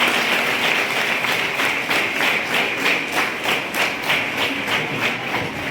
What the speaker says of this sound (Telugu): క్లాప్స్ కొట్టాలి హరిశ్రీ.